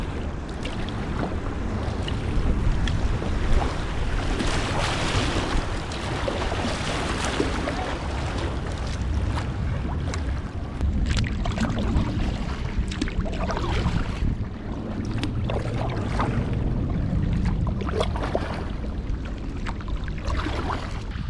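A boat runs through riffles on the Yukon River, with continuous rushing water and wind buffeting the microphone over a steady motor hum, fairly loud and unbroken for the whole stretch.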